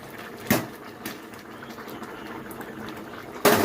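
Chicken curry bubbles in a pot, a soft steady simmer with a few louder knocks or stirring sounds at the start and end.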